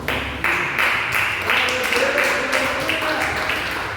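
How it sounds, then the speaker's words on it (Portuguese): Church congregation applauding and clapping together during a worship service, a steady, dense wash of hands that holds at full level for the whole stretch, with voices and a faint tone running underneath. "Aplauda o Senhor"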